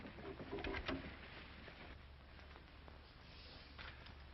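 A pigeon coos softly a few times near the start of a 1941 classic Western film scene, then fainter bird sounds continue over a steady low background hiss.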